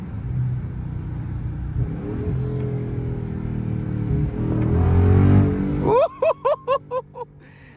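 A big Dodge Scat Pack widebody V8 engine rumbles at idle, swells into a loud rev, then several sharp throttle blips in quick succession, close up.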